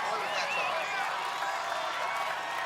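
A crowd cheering and applauding at the American Ninja Warrior Atlanta Finals as a competitor runs the course, a steady roar of clapping, shouts and whistles with an announcer talking over it.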